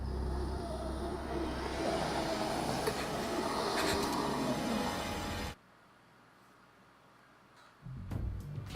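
Train moving in the Resident Evil: The Umbrella Chronicles video game: a steady, full rumbling roar that runs for several seconds, then cuts abruptly to near silence before a short return of noise.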